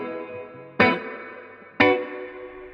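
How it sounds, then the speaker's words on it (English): An electric guitar plays through a Blackstar HT Venue MK3 valve amp on its bright setting with spring reverb. Two strummed chords ring out about a second apart, each with a sharp attack and a shimmering reverb tail. "You can hear I've got a much sort of brighter spring sounding reverb in there"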